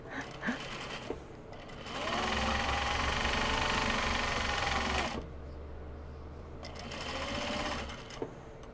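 A sewing machine motor spins up to wind a bobbin, a steady mechanical whir held for about three seconds, then a short pause and a second shorter burst, close by, with light handling clicks between.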